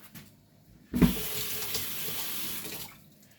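A kitchen tap turns on abruptly and water runs steadily into a sink for about two seconds while something is rinsed during Appalachian home cooking, then the flow cuts off.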